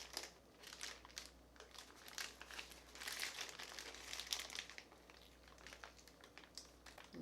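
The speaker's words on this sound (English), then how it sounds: "Use your parchment paper to kind of squish it." Parchment paper crinkling and crackling as a keto pumpkin roll cake is rolled and pressed, soft irregular rustles coming in quick bursts, close but quiet, with no voices.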